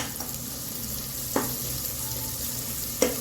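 Ginger garlic paste and onion sizzle steadily in hot oil in a pan, a soft, continuous frying hiss broken by a couple of sharp clinks from stirring.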